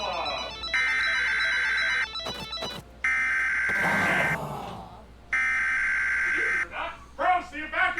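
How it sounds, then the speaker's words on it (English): An evacuation alarm sounds in three long, loud electronic blasts separated by short gaps, with voices talking and shouting between and over them. "the evacuation alarm sounded"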